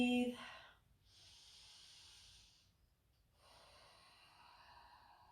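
Slow, deep breathing in a yoga class: a long airy inhale and then a long exhale, soft and close, with a short pause between them.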